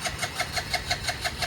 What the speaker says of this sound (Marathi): गाडी का स्टार्ट व्हाय ना, पार्किंगला लावली तिथं.